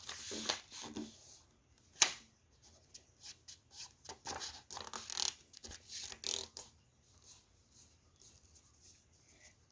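Sheet of colored origami paper being folded into a triangle for a paper tank, with soft crinkles, creasing presses and sharp rustles close up, in irregular bursts against a quiet room.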